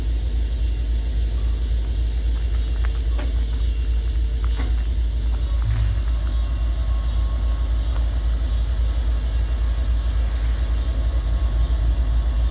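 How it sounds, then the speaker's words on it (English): Fuel pumps hum steadily while a southbound locomotive takes on fuel at a stop in Abbeville, a constant low drone with idling rail machinery and faint clanks throughout, no talk. "That's fuel pumps going, y'all. You can hear it."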